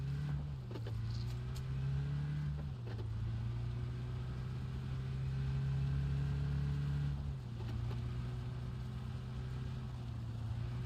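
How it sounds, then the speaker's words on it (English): A car engine droning steadily while driving down a road in PUBG Battlegrounds, a low sustained hum with gear shifts changing pitch a few times, continuous and close with no talk. "he's in the car, and we're taking off in the car"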